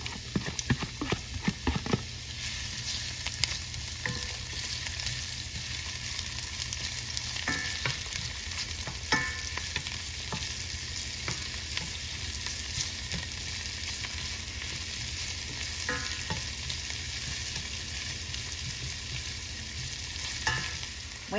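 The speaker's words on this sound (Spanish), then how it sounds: "Aquí le voy a poner el ajo y la cebolla para que se vayan sazonando." Garlic and onion fry in a clay cazuela before beef steaks go in for bistec ranchero, a continuous low sizzle broken by periodic spoon taps and stirring scrapes against the pot, with no talk.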